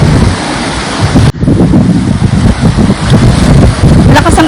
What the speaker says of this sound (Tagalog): Lakas ang alon ngayon dito sa playa.